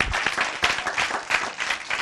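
A group of children applaud together in a brief burst of dense, lively clapping close by, with a little voice noise mixed in.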